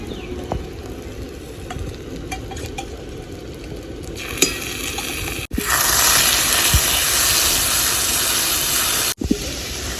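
Poppy seed paste hits a pan of frying, well-cooked masala with chopped tomato for a fish curry, a loud steady sizzle that swells into a broad hiss and keeps crackling, with occasional stirring bumps and no talk.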